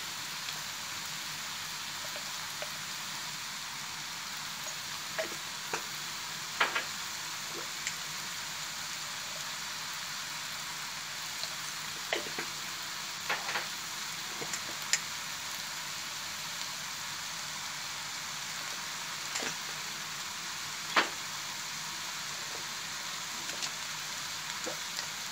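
Ingredients frying in a small pan, a soft steady sizzle with scattered faint pops and crackles, quiet and close, with no talking.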